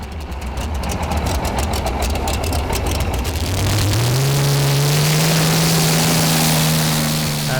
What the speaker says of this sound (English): he uses a Rover Meteor tank engine